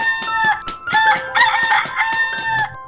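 A rooster crows loudly and up close in a village at morning, giving a drawn-out cock-a-doodle-doo broken by sharp clucking bursts. There is no talk.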